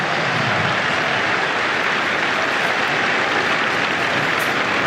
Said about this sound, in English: Johnny Bairstow emerges and the crowd go wild here at Old Trafford.